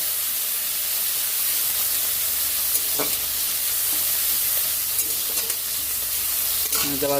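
Ridge gourd and potato jhal frying in a pan, with a steady loud sizzle and hiss throughout and occasional scraping stirs and light clinks of the spatula.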